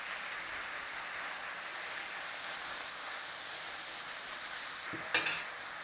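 Meat for an Australian meat and potato pie cooks in a pan with a steady, close sizzle and frying hiss, broken near the end by a short scrape or clatter.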